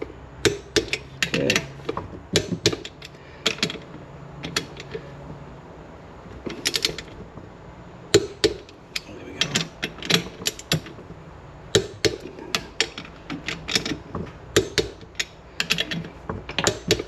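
Head bolts on a DS90 two-stroke engine being tightened with a ratchet wrench: repeated short bursts of close, quiet clicking ratchet strokes with pauses between.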